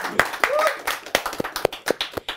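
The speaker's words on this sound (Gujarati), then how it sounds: "ખૂબ તાળીઓના ગડગડાટ સાથે આવકાર આપો દિલથી" Scattered hand claps from an audience welcoming the actors of the Gujarati film Udan Chhoo at a stage event, a brief uneven patter of individual claps with a voice briefly audible.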